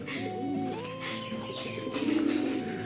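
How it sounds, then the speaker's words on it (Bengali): A pet pigeon coos with soft low rolling calls close by, a steady background hum running underneath and no speech. "আরেকটা পায়রা আমি দেখেছি ওপরে"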